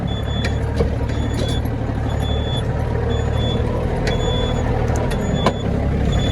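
A tractor rumbles at a low, steady idle while manoeuvring and reversing in a small field, with a repeating high-pitched beep and a few clanks over the engine drone.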